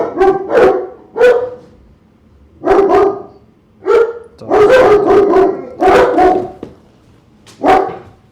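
Several dogs bark loudly and close by in repeated clusters of sharp, resonant barks with occasional howl-like and yipping tones, separated by brief pauses over a faint background.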